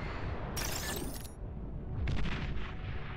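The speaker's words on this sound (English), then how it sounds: "I hear snipers." Sniper fire in the strategy video game Beyond All Reason, with a sharp synthetic shot and whooshing tail followed a moment later by a second muffled blast over a low rumbling battlefield bed.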